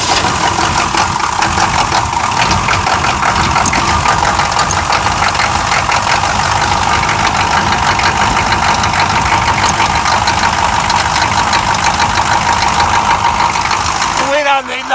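A Chevrolet K5 Blazer engine runs steadily near the microphone at an even idle with a knocking, diesel-like clatter, continuing without pause until a brief shift at the very end.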